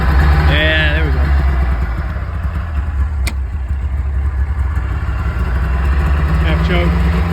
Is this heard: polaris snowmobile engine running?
yes